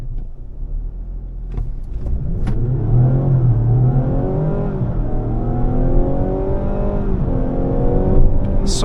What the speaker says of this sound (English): let's do an acceleration run with a brake start